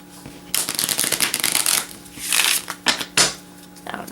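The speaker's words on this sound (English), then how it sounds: "Give the rest a shuffle." A deck of playing cards being shuffled up close in several quick riffling bursts separated by short pauses, crisp and papery with no talking.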